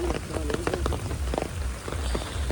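Heavy downpour in Bangladesh near a swollen river, a dense steady hiss of rain drumming on surfaces with scattered louder drops, continuous and close throughout.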